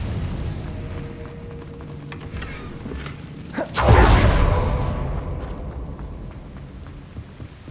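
Incendio fire spell cast in Hogwarts Legacy, a rising whoosh that bursts into a deep booming flare of flame, then fades out over a few seconds against a quiet rumbling background.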